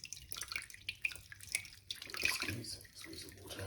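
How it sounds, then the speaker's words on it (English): Cold tap water running and splashing over vegan meat in a kitchen sink, a close, uneven patter of drips and trickles with no talking. "Run it under cold water."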